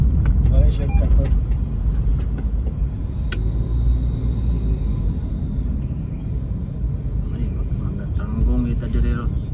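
A car moves through evening city traffic in Tokyo, its engine and road rumble steady and close, with other vehicles passing around it. People talk over the noise in the cabin.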